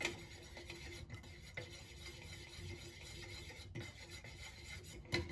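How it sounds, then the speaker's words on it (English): Utensil scraping the bottom of a pot while stirring dye chips into melted candle wax, a quiet repeated raspy rubbing with occasional light clicks, close and alone. "Just scraping the bottom to make sure that I get all of the chips dissolved in this"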